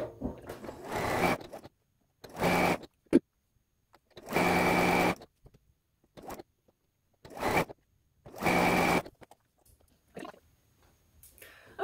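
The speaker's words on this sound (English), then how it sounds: "So I'll flip these 2 together and I'll sew them together." A sewing machine chain pieces quilt blocks in short bursts of steady rapid stitching, each run a second or so long, separated by quiet pauses and small handling noises.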